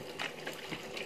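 Water poured by hand into a chickens' drinker on a small farm, a brief, soft splashing trickle with faint uneven gurgles over about a second.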